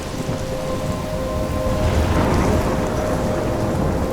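A thunderstorm rages in the video game Life Is Strange, with heavy rain hissing steadily on surfaces and a deep rolling thunder rumble, loud and continuous without any voices.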